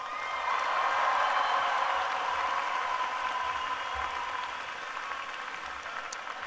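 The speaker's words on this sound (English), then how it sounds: "Give them another round of applause." Steady broadband applause from a graduation audience at an engineering school ceremony, a dense wash of many hands clapping that swells early and then eases slightly while continuing without pause.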